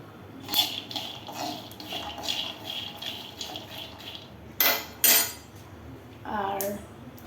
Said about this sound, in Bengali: যে বাদাম ভাজতেছি